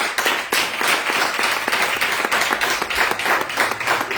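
Congregation applauding together at a Christian worship gathering, a dense, steady wave of clapping that stays loud and close from start to finish with no voices above it.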